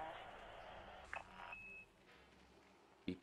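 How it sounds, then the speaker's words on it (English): Short electronic beeps and bleeps from the Elite Dangerous spaceship game sound over a low hum, with a brief sustained tone and a sharp blip near the end; some voice-like sound blends in. "Beep, beep, beep, beep, beep, beep, beep, beep, beep, beep."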